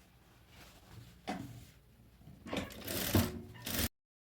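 A home sewing machine stitches two layers of fabric right side to right side while sewing a child's overalls, with short bursts of mechanical whirring that build louder toward the end, separated by brief pauses.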